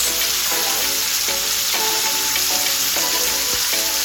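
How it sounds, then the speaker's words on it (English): Steak searing in butter in a cast iron pan on a stovetop, a loud, steady, close sizzle and crackle that fills the whole stretch with no one talking. "I just love hearing my steak sizzle like that."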